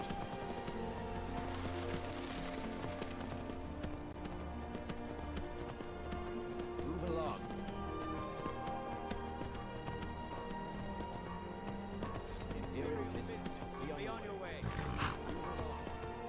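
Horse hooves clop in a rapid galloping rhythm while riding across mountainous terrain in the video game Skyrim, moderately loud beneath background music and someone talking.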